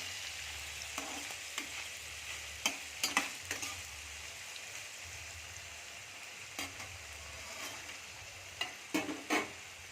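Paneer pieces fried in a pan with a little salt make a quiet, steady sizzle, broken by sharp spatula clinks and scrapes as they are stirred.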